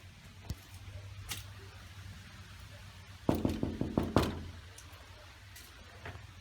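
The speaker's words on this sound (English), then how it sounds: "So let's knock on another door and see who answers." Knuckles rap on a door in a quick burst of about five sharp knocks, then a couple more after a short pause, loud and close against a faint steady hum.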